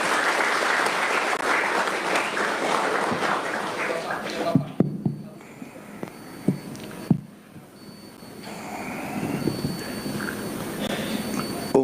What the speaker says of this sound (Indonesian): Tepuk tangan untuk Bapak Presiden